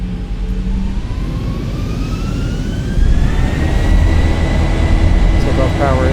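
Boeing 737 jet engines spool up toward takeoff power in the X-Plane 11 flight simulator, a loud steady roar with a rising whine that climbs and swells after a few seconds, a voice speaking over it.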